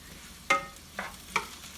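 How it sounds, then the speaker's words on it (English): Potatoes in a pan being stirred, giving three short scraping stir strokes over a faint, steady sizzle, close and fairly quiet with no talking. "The potatoes are sizzling quite nicely over here. We just want to give them a stir."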